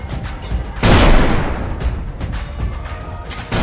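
A ceremonial salute of field guns fired for India's 78th Independence Day booms heavily at an outdoor event, a loud blast followed by a long rumbling roar and distant crackle, with another shot starting at the end.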